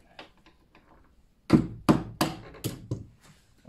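A screwdriver is struck with a hammer to drive out a cotter pin: a few faint taps, then five sharp metallic knocks in quick succession, close and loud.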